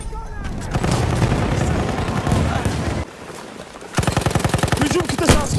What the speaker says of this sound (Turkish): Altın makinalı tüfek var.